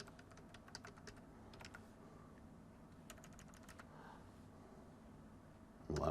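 Quick irregular keystrokes on a computer keyboard, clattering in short bursts with pauses, close up in a quiet room, ending in a louder low thump.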